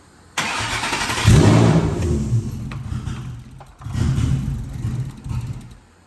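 A Ford Coyote V8 engine cranks and catches, then runs with a deep, rough rumble that rises and dips through a couple of revs before settling.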